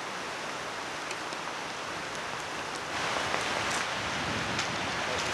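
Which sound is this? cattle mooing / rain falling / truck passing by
rain falling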